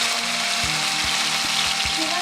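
Marinated chicken frying in soybean oil in a pan, a loud, close, steady sizzle with a few low knocks of the pan or utensil.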